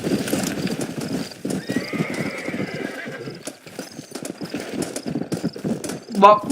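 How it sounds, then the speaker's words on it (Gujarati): Horse hooves clatter at a gallop with repeated neighs and a whinny near the end, set in the video game Red Dead Redemption, loud and close with faint voices underneath. "એટલે આનો ઘોડો મજબૂત લાગે અમને."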